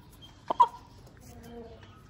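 A black hen gives a short double cluck over a quiet, noisy background, with faint tonal bird calls trailing afterward.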